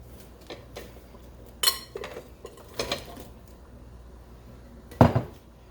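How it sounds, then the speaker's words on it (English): Shredded cabbage dumped into a stovetop cooking pot for corned beef and cabbage, heard as a few scattered soft thumps and rustles, ending in one louder clattering drop, with no talking. "Cabbage. We're just dumping it all in there."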